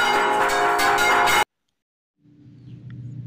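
Church bells of St. James the Greater Parish in Bulusan ringing the repique, with small and large bells sounding together in a dense, loud clangor that cuts off abruptly, followed by silence and then a faint low hum.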